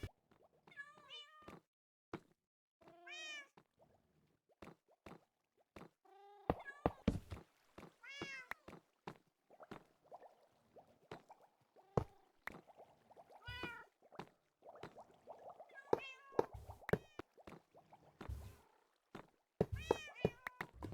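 Minecraft cats placed on iron blocks at a creeper farm meow over and over in short, overlapping calls, some loud and near, others softer, with brief gaps between bursts.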